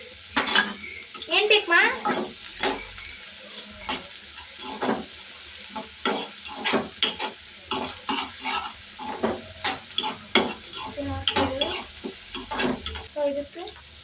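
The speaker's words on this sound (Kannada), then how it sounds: "ಸೊ ಇವಾಗ ನಾವು ಹಚ್ಚಿರೋ ಸಣ್ಣ ಸಣ್ಣ ಈರುಳ್ಳಿನ ಹಾಕೋಣ" Chopped small onions frying in a pan, with sizzling and repeated scraping stirs of a utensil against the metal in uneven bursts, while a person speaks briefly between the strokes.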